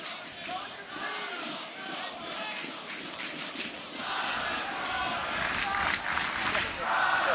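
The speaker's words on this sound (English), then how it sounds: "Listen to this crowd." A crowd roars and cheers at a college ultimate frisbee championship semifinal between Cal Poly SLO and North Carolina, a loud, sustained mass of voices that swells near the end, with players running and shouting on the field.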